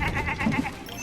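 Sheep bleating in the video game Puppeteer, a short wavering bleat repeated in quick pulses, close and fairly loud, with low game sounds underneath.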